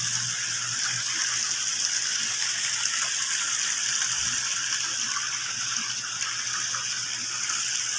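A stream where fish swim flows steadily, a continuous rushing wash of water with a faint low hum beneath it, close and unbroken for several seconds with no speech.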